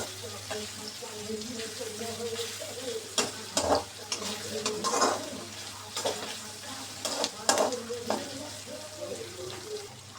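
Whole onions fry over medium heat with dried loitta fish in a pan, giving a soft, faint sizzle with occasional stirring scrapes and clinks, and a voice is faintly present.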